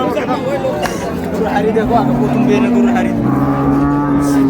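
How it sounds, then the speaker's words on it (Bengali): Dairy cows and calves at Raniganj cattle market in Dinajpur, with a long low moo rising close by amid steady crowd babble and people talking nearby. "গাভী বাছুর আমরা দেখছিলাম এখানে।"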